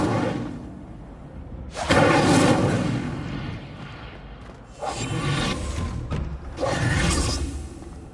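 Fiery spell blasts from the Incendio charm in Hogwarts Legacy, three loud whooshing bursts with booming roars in a steady rumbling game soundscape.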